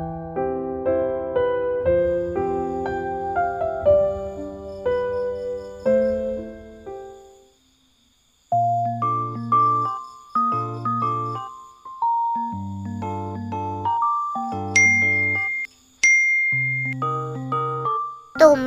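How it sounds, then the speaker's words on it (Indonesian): A phone rings in the Sakura School Simulator game with a melodic, chiming ringtone: bright tonal notes in repeated phrases, broken by short pauses, played alone and fairly loud. "Ini HP-ku bunyi."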